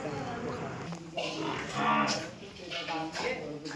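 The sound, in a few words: cow mooing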